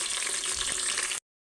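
Tomato and green chilies frying in a pan, a steady close broadband sizzle that runs without pause for just over a second and then cuts off abruptly.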